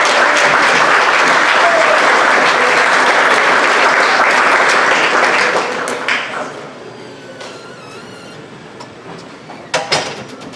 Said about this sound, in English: Give a round of applause for our seniors.